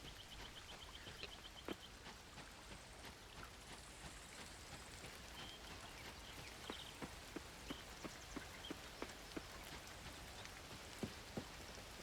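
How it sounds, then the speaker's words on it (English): Rain falls in the farming game Coral Island, a soft continuous patter with scattered distinct drop taps and light chimes across a quiet, steady background. "It's raining."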